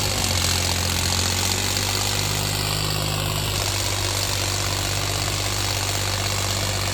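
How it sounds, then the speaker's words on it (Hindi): A John Deere 50 HP tractor engine runs steadily at around 1800 RPM, a loud continuous diesel drone with a low hum that stays constant throughout, with no talk. "तो देखो भाई ट्रैक्टर चल रहा है पूरा।"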